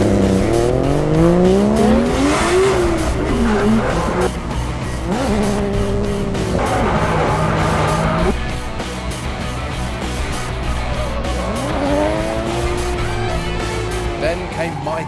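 A Nissan Skyline drifting, its engine revving hard through sweeping pitch changes as tyres squeal and skid in long loud slides, with someone talking over the noise.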